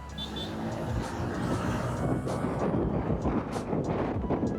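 A bus engine roars and builds as it speeds up, with wind buffeting the microphone and road noise rising over a few seconds.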